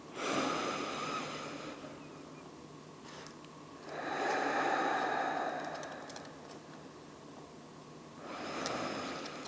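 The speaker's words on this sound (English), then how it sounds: "So nice long inhales, nice long exhales. And just remaining here for a few big deep breaths." Long, deep yoga breaths: three slow, audible inhale-exhale cycles, each a soft airy rush that swells and fades, close and quiet with calm pauses between.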